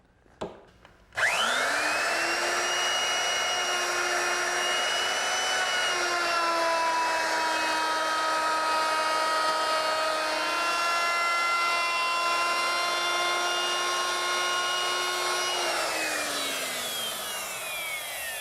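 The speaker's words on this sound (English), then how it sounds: "I'll use my router, which is equipped with a 3/8 inch radius rounding over bit. I'm going to mill this edge in 2 passes" A router fitted with a 3/8 inch radius rounding-over bit mills a wood edge: a loud, steady high-pitched whine that holds for about fifteen seconds, then winds down as the motor coasts to a stop.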